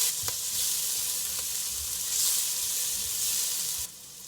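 Chopped onion softening in a pot over just-under-medium heat, a steady close sizzle with a few light stirring knocks, the sound dropping slightly near the end.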